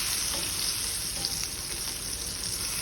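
Zucchini sautéing in a hot pan, a continuous even sizzle heard close and alone with faint crackles.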